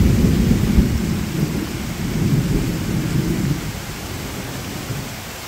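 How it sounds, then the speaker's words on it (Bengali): A village thunderstorm brings heavy rain pouring steadily in a dense roar, with deep rolling thunder rumbling loudly underneath and slowly easing off. "একটু বৃষ্টি দেখেন, উপভোগ করেন, আর কিভাবে বিদ্যুৎ চমকায়"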